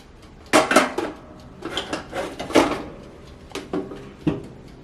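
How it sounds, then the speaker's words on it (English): Metal tray slid into a small countertop toaster oven, a cluster of clanks and scraping rattles followed by a few lighter knocks and taps, close and without talk. "So just put the tray in."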